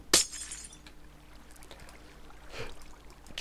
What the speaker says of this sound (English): May have to take this glass out then.